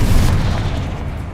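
A Confringo blasting spell exploding in Hogwarts Legacy, a loud, heavy booming blast with a deep rumbling body that slowly tails off.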